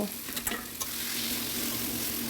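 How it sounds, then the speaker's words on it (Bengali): Banana flower and potatoes being stir-fried together in a pan for Bengali mochar ghonto: a few scraping stirs early on, then a steady soft sizzle that holds at a low, even level without any voice. "মোচা আলু একসঙ্গে কষাবো"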